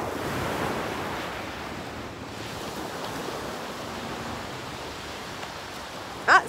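Ocean waves wash and break in a broad, continuous roar mixed with wind buffeting the microphone, fairly loud and steady, with a brief bump near the end and no talking.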